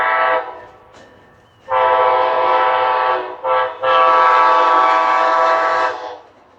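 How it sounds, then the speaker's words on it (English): An Amtrak train sounds its horn in loud, sustained multi-tone blasts: a short blast, then a long one, a brief one and a final long blast, close by with the rumble of passing rail cars beneath. "It's an Amtrak."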